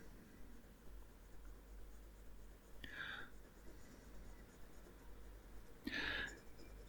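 Two short scratchy strokes of a fountain pen nib on paper while ruling a grid, each stroke brief and soft, separated by quiet pauses.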